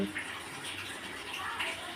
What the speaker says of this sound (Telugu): వర్షం పడుతుంది, వాటర్ బాగా వస్తుంది.